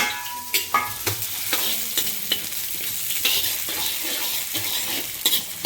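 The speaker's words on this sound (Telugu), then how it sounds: "సో ఆయిల్ వేడెక్కాక ఆనియన్ కట్ చేసుకున్న ఆనియన్ దాంట్లోకి వేసుకోవాలి." Chopped onions drop into hot oil in a pan and fry with a constant dense sizzle, broken by sharp clicks of a spatula stirring them.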